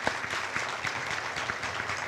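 Graduation-ceremony audience claps in a soft, steady patter of many hands, fairly distant and faint for a couple of seconds.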